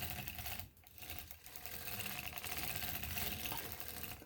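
Hand-cranked circular sock machine knitting a sock, giving a steady close mechanical clatter of needles and cams that runs continuously after a brief dip near the start.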